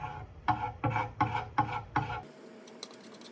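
Hand sanding a furniture piece with 220 grit sandpaper on a sanding block, heard as five rhythmic rasping strokes, close and fairly loud, then a quieter stretch with faint scraping.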